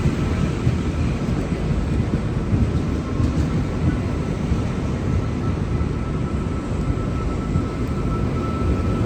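A steady, loud rumble of a Sydney Trains electric V-set train rolling into a station platform, continuous low roar with a faint whine, no voices.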